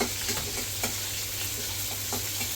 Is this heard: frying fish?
yes